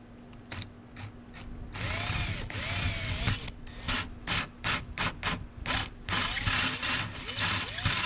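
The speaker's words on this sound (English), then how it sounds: "grab the drill and start drilling some holes" A power drill with a 1.5-inch bit cuts into the hatch of a Jeep Commander XK, with whirring bursts of motor and grinding in stop-start pulses, close and fairly loud.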